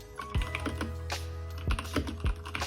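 Typing on a Keychron K2 version 2 mechanical keyboard connected to a Mac: a quiet run of crisp, separate key clicks with a few heavier thocks, heard close and alone.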